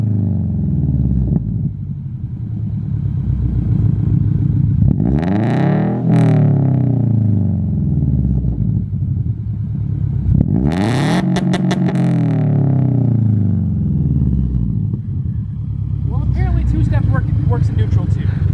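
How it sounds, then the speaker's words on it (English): A Subaru BRZ with a full aftermarket exhaust (headers, overpipe, front pipe and catback) revs hard while standing still, two loud rising blips sweeping up and falling back over a steady idle, with people talking nearby. "So we're about to give you guys some standing revs."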